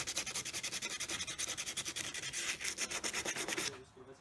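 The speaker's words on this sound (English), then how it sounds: "So yep, just gonna keep sanding." Rapid, steady back-and-forth sanding strokes scrape over a Mazda Miata car body being prepped for vinyl wrap, close and even in rhythm, stopping abruptly near the end.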